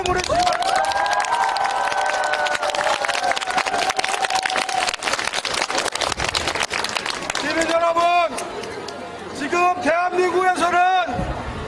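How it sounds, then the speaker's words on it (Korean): A crowd at a Korean political campaign rally claps and cheers with a loud, busy mix of applause and shouting, while amplified voices and crowd chatter run through it and cut in and out. "동의하시면 박수 한번 보내주세요"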